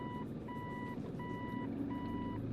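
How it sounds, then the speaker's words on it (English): Steady reversing beeps from a vehicle's in-cabin alarm, four evenly spaced tones sounding clearly inside over a low engine rumble. "Yeah, this vehicle is reversing."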